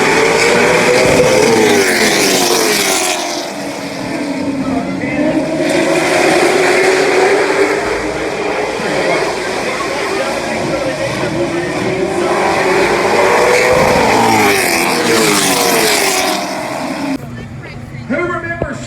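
Race cars lapping a racetrack, a loud continuous engine roar that swells and fades as cars pass, with crowd or announcer noise mixed in and a drop near the end.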